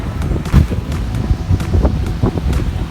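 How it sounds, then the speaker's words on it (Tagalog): Gusty wind on a Boracay beach buffets the microphone in strong, uneven surges, a loud low roar with brief blasts, and no talking. "Grabe yung hangin, no? Napakalakas."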